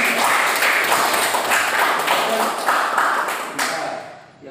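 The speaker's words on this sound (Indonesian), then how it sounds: "beri aplaus untuk adik" A classroom of students applauds a fellow student, with dense, steady clapping close by that holds for several seconds and then fades out.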